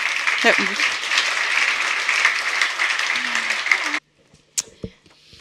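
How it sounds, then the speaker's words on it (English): At a German-Swedish tech forum, the audience gives a warm round of applause, dense and steady for about four seconds before stopping abruptly, followed by near silence with a few faint stray sounds. "A warm welcoming applause to them."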